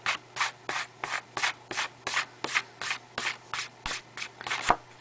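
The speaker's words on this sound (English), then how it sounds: "So I'm just going to wipe some of that away." Fingertip wiping ultrafine glitter across a surface in a steady series of about a dozen short, regular rubbing strokes, close and moderately loud, with no talk.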